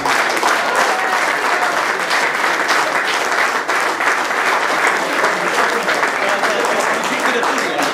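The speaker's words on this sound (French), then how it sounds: "j'aimerais vraiment que vous les applaudissiez" Audience at a press conference applauds continuously, a dense, loud, even roar of many hands clapping that holds steady for the whole stretch.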